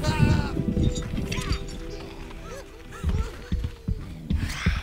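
Sheep bleat repeatedly in the video game Overlord, with several wavering cries over a busy game soundscape of thuds and hoof-like clops. A voice talks faintly underneath.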